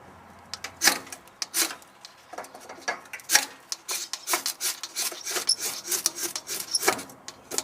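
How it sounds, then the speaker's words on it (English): Repeated scraping strikes of a ferro rod throw sparks onto fat wood shavings, a rapid, irregular series of sharp rasping bursts close to the microphone with no talking. "Let's see if we can get them to go with the ferro rod."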